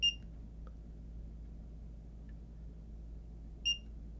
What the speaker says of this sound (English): We're on continuity beep.